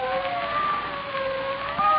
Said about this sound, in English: I said sirens.